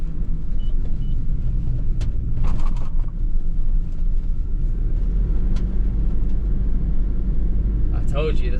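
A Tesco delivery van's engine rumbles steadily and close by throughout as it makes a tight turn on a road, with low road noise and a brief higher whine near the end.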